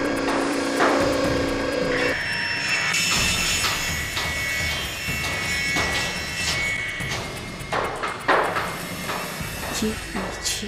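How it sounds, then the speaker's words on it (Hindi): Drilling and knocking inside a house, a continuous mix of grinding, scraping and thudding impacts in the background while people talk over it throughout. "ड्रिलिंग हमारे ही घर में हो रही है।"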